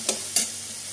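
Mustard paste and spices frying in hot oil, a steady close sizzle with two brief stirring scrapes at the start, no voices.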